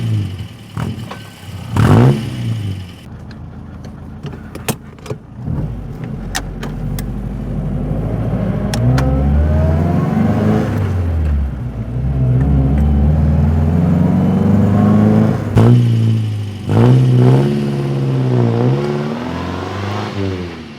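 A 1950s MG Magnette ZB sport saloon with a non-stock exhaust starts up, then revs repeatedly with rising and falling engine notes, loud and close, with no talking.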